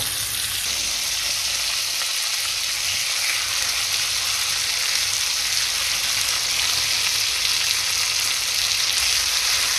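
Saltimbocca fries in a pan over low heat, a steady close sizzle and crackle filling the clip without pause, with no voices over it.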